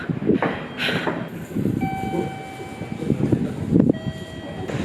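A train rumbles steadily through a railway station in Japan on the way to Oita, with faint high squealing tones over the continuous rolling noise.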